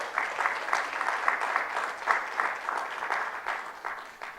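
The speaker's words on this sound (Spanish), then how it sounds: "Dele palmas al Señor si lo cree." A church congregation applauds during a sermon, sustained fairly distant clapping from many hands with an even, continuous texture throughout.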